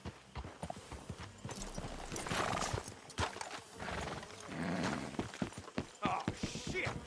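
Horses snorting and whinnying with clip-clopping hooves in the Western open-world video game Red Dead Redemption 2, loud and close, with irregular hoof beats and some game speech mixed in.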